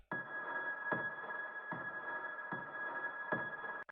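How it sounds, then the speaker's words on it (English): High piano notes strike at a slow, steady pace, drowned in reverb and panning, ringing out into a dark, reverberant wash with a sustained tone beneath, in a big room techno track. No talking. "We have a high piano, which is like this real dark atmospheric sort of thing,"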